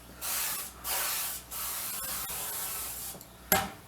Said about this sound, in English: give it a light coating of olive oil spray